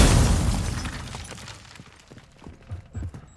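A flash grenade goes off in a Call of Duty Modern Warfare team deathmatch: a loud, harsh burst that opens the clip and fades over about two seconds, followed by scattered faint clicks and thuds.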